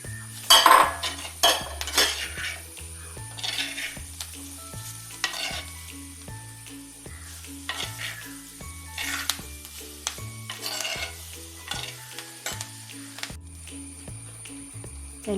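Gooseberries (amla) frying in a pan, a steady sizzle under repeated stirring and metal utensil scrapes against the pan, with a rhythmic low thumping pattern running through and no talking.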